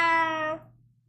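A person imitates a cat with a single drawn-out, tonal meow that fades over about half a second. The voice is close, with no other sound around it.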